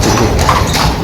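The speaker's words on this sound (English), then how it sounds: "Do you hear the horse? This is the horse, yeah?" Horse hooves clip-clop close by on a beach, a loud, brisk run of knocking footfalls over windy outdoor noise.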